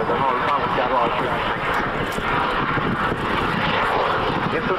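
A JAS-39 Gripen jet fighter flying an airshow display gives a loud, continuous roar that stays strong throughout, with a voice faintly audible beneath it.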